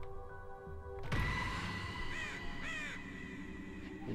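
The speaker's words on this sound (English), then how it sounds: "Don't like the look of them crows." Crows caw in the South Park game, a burst of harsh calls after a sudden thud, then two or three nearby caws over low background noise.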